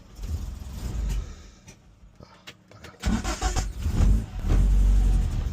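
A Ford Escort pickup with no choke warms up from cold, its engine idling unevenly, then revving up in surges that rise and fall, loud and close with no talking.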